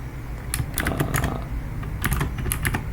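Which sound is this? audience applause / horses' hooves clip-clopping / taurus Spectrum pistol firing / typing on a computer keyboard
typing on a computer keyboard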